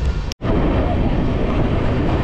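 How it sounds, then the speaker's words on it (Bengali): A 13115 Humsafar Express train crossing the Nasipur rail bridge, a loud, continuous rumble and roar of wheels on the bridge, heard from on board with one brief dropout near the start. "আমরা এখন নসিপুর রেল ব্রিজ পার করছি।"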